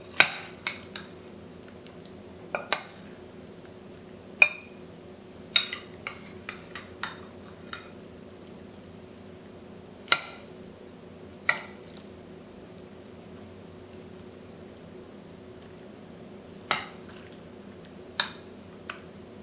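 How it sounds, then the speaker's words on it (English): A spoon stirs boiled yuca root pieces in garlic mojo sauce, giving sparse, soft clicks and scrapes against the bowl at irregular intervals over a quiet, steady background hum. "With a spoon, stir until the root vegetables are coated evenly with the garlic sauce"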